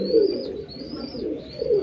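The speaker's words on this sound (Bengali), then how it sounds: "এই যে কবুতরটা দেখতে পাচ্ছেন, এটা পাকিস্তানি" A Pakistani pigeon, a male, coos softly nearby in a shed, two low throaty rolling coos with a brief pause between them and no voices.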